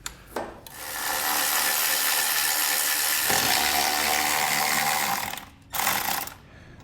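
Ratchet wrench working 13mm nuts loose on a 2022 vehicle while installing a Roadmaster Direct-Connect base plate kit, a steady continuous clicking rasp that runs for several seconds, pauses, then resumes briefly, close and loud with no talking.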